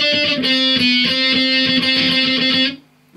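Distorted electric guitar plays the first part of a solo, a steady stream of quick picked notes over a sustained low drone, loud and close before cutting off near the end.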